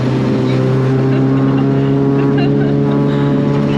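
A loud car engine rumbles close by with a deep, steady hum, and people talk over it.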